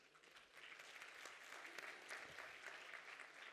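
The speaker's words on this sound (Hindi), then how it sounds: "इतनी कमजोर तालियां नहीं होनी चाहिए।" Weak, thin applause from an audience at a yoga institute gathering in Kota, a low steady patter of scattered claps that barely swells, heard at a distance and fairly faint throughout.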